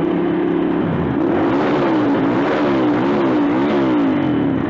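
A Ducati Monster motorcycle engine roars loudly and continuously, its pitch rising and falling as the throttle is blipped in repeated revs.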